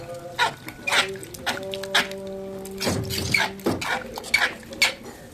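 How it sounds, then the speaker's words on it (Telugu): A spoon stirs lentils and water in a cooker, with repeated scraping clinks and wet sloshing in an uneven rhythm, close and fairly loud. "ఒకసారి బాగా మిక్స్ చేసుకోండి."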